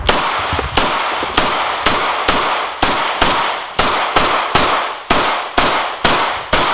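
A gun is fired repeatedly at a Samsung Galaxy S8 clone phone in about a dozen loud, close, sharp shots at a steady rhythm, each with a brief echoing tail.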